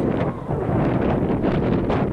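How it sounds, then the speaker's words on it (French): Cool wind gusting steadily across the microphone on an open mountain hiking trail above the forest in the Écrins massif, a continuous low rumbling buffet with no voices. "Et un petit vent frais."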